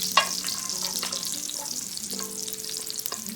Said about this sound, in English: especially when you're frying anything stir fry